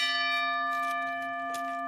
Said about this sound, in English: This, everybody, is the bell of truth.